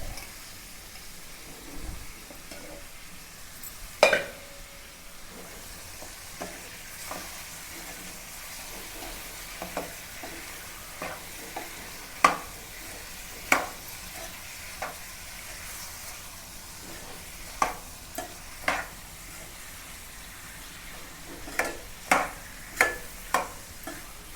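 Chicken fries in a pan with a soft, steady sizzle, broken by scattered sharp pops and crackles that come every second or so, close up and without voices.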